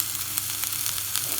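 Chopped shallots sizzle steadily in hot olive oil in a pan, a close, even crackle with no voices.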